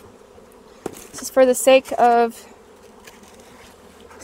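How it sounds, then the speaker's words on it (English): Honey bees buzzing around an open hive during beekeeping, a soft steady hum running under close talk with a few louder buzzing bursts near the middle. "I never like doing this because of all the bees that you kill"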